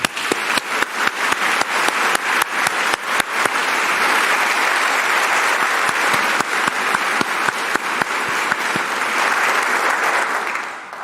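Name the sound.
applause welcoming new faculty, staff and president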